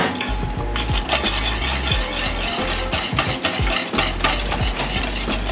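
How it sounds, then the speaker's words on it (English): Apple fritter batter whisked steadily in a bowl, a dense, continuous run of rapid scraping and tapping strokes, loud and close, with no voices. "And then you just blend it and whisk it all together."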